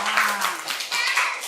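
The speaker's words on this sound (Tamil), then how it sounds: "அவங்களுக்கு ஒரு கைத்தட்டல் கொடுக்கலாமா?" Children clap their hands in a classroom, a short burst of quick, uneven claps heard close, with a brief voice at the start.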